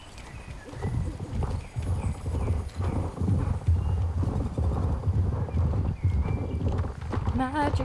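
A magic horse in the Star Stable Online video game clip-clops along with steady, rhythmic hoofbeats, a whinny rising near the end, while a person talks over the top.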